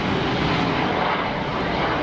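An airliner takes off at Geneva Airport, its engines producing a loud, steady broadband roar that stays constant and close throughout.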